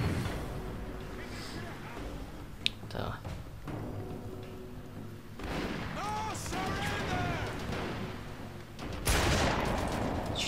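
Gunfire in the video game Haze: scattered shots and bursts with a sharp crack early on, layered over game ambience and someone talking over much of the action.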